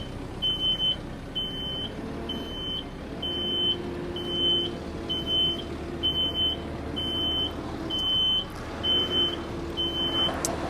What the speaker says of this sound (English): You're gonna hear the beep.